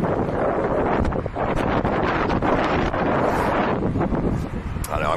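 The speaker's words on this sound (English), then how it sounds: "It's windy up in here." Strong gusting wind in New Orleans roars and buffets continuously, loud and close, with rumbling noise across the whole stretch and no clear speech.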